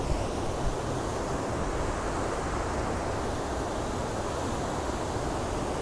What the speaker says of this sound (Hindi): यहाँ से जहाँ से पानी गुजर रहा है ना वहाँ से ठंडा ठंडा फील हो रहा है